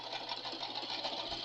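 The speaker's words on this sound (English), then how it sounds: "I've got this here sewing machine I usually use just for my paper" A sewing machine used for stitching paper runs steadily with a fast, even whir and needle chatter, close and continuous.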